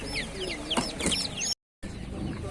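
Chickens cluck and squawk close by at a busy market, with a brief dropout near the end before the clucking resumes.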